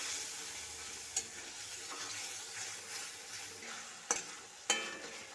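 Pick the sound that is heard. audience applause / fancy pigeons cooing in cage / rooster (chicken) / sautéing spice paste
sautéing spice paste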